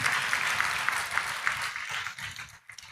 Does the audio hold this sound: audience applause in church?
yes